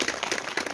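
Audience applause at a book concert about a Sewol ferry diver, a short, steady patter of many hands clapping together, moderately loud with no voices over it.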